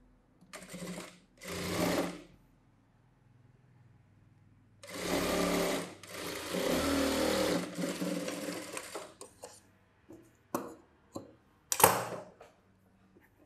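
A sewing machine stitches a saree blouse in several short runs, stopping and starting, with quiet pauses and a few brief clicks between bursts.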